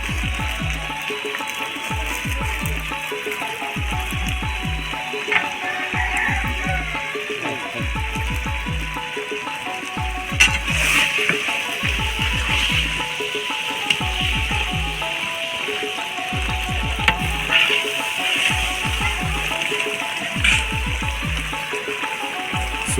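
Vegetables for a fish-head and Malabar spinach dish fry in oil in a pan, a steady soft sizzle running throughout alongside a regular thumping beat and faint clinks, with no talk.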